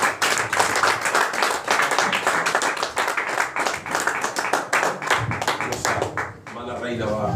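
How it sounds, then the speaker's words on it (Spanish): A church congregation at a Spanish-language service bursts into loud, rhythmic applause for the Lord, with steady claps running throughout and voices mixed in near the end. "Denle un aplauso al Señor."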